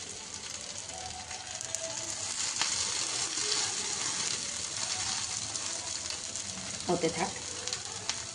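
Fish wrapped in pumpkin leaves sizzles softly in a pan over a very low gas flame, with a steady quiet crackle throughout and a few clinks near the end. Someone speaks briefly.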